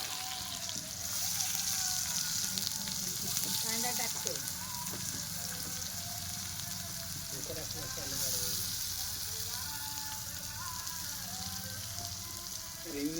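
Onion sizzles in hot oil with mustard seeds and cumin, a faint steady crackle and hiss in a village kitchen, with people talking over it.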